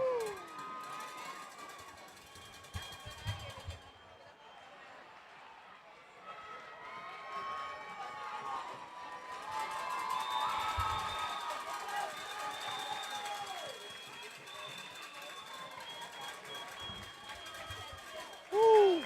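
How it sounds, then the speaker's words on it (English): A high school softball crowd at a semifinal game cheers and shouts, children's voices rising in bursts and swelling mid-stretch, with clapping, an announcer's voice talking over parts of it, and a brief loud thump at the very end. "Santa Monica crowd getting pumped up here."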